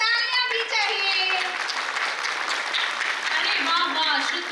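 An audience at a school's annual function claps for a children's performance, giving a steady wash of applause mixed with children's voices and talk throughout.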